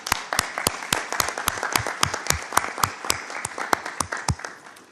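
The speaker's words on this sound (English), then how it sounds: "give a round of applause to our distinguished panelists" An audience at a forum gives applause for the panelists: a steady run of sharp, distinct hand claps from a modest crowd, fairly close and lasting about five seconds with no talking.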